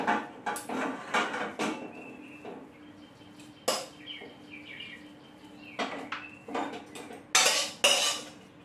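Cooked potato curry for masala dosa filling is poured from a pan onto a plate, bringing a run of clattering metal knocks and scrapes of utensil against pan and plate, with sharper louder clanks near the end.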